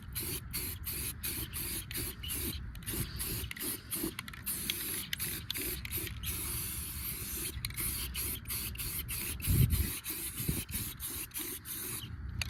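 A 5x8 trailer gets a second coat of aluminum paint from a sprayer, giving a steady hiss broken by rapid clicking pulses from the spray gun, close and even throughout.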